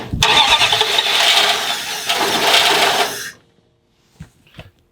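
Engine of a Dodge M880 W-200 truck cranking and running roughly for about three seconds before cutting off abruptly, followed by a few faint clanks in near silence.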